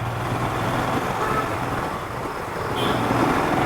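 Steady road traffic noise in monsoon weather forms a dense, continuous roar of engines and tyres close by, with a low rumble throughout and a brief higher tone near the end, with no talking.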